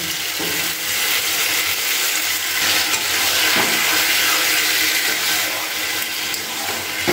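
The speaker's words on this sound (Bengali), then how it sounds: "এবার সামান্য একটুখানি জল দিয়ে দিচ্ছি।" Water splashes into a pan of frying meat, raising a loud, dense, steady hiss and sizzle that fills the whole stretch without letting up; nobody speaks.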